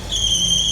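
A BMW E46 Clubsport engine on the road, with a steady high-pitched whine from its belt riding over a low, continuous engine rumble, close and fairly loud for a brief moment.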